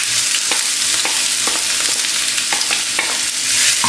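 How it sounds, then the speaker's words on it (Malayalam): Onion, garlic, ginger and green chili sauté in a pan with a continuous bright sizzle, broken by repeated stirring scrapes at an uneven rhythm; no one speaks. "ഇതെല്ലാം കൂടെ നമുക്ക് പാനിലോട്ട് ചേർക്കാം"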